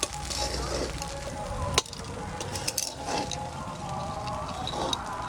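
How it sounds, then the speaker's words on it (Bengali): Lemon rice frying in a pan is stirred with a steady sizzle and scraping strokes, with a sharp clatter near the two-second mark. "এবার নাড়াচাড়া দিয়ে নাড়া দিচ্ছি।"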